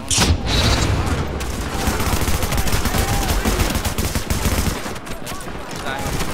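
Gunfire in the shooter The Division, dense continuous bursts of automatic fire with booming impacts, loud and close throughout with brief pauses.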